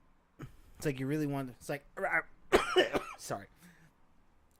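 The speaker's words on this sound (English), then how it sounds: "sorry, I'm still coughing." A person on a stream coughs in a couple of harsh, close bursts that break up their own speech, mixed with brief talking.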